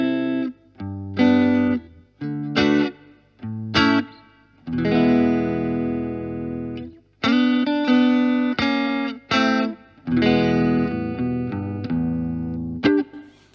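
Electric guitar played through a Blackstar HT1-R valve amp with reverb set about a quarter of the way, loud distorted chords and riffs in bursts with short gaps and light reverb tails.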